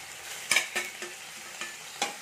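Ground cumin, coriander and chili powder being stirred into hot oil in a pan: a soft continuous sizzle punctuated by about five crisp scraping strokes of a spoon at irregular intervals.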